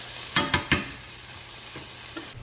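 Tomatoes blister and cook in a hot pan for shrimp scampi linguine, a brief steady sizzle broken by three quick stirring scrapes near the start and a softer one near the end.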